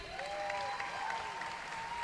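Applause from a swimming crowd at the Canadian Swimming Trials, honoring the new women's 100-meter breaststroke national champion, a dense steady clapping with a faint tone ringing over it throughout.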